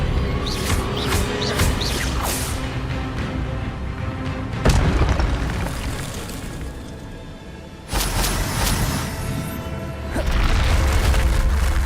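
Spell impact in the Hogwarts Legacy video game: a loud booming burst of magic with crackling, shattering debris, then a second heavy hit near the end, under a constant dense game soundscape.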